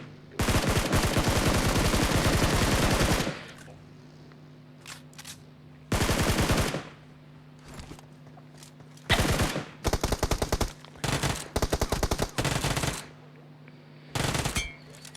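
Long, loud bursts of automatic gunfire in the mobile battle royale PUBG Mobile rattle close by, with one extended volley at the start and then shorter clustered bursts separated by quiet gaps with a low background hum.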